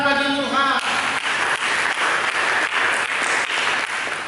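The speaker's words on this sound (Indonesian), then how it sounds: "Berikan tepuk tangan bagi Tuhan." A church congregation bursts into applause during a sermon, steady loud clapping from many hands right after a brief moment of a voice speaking.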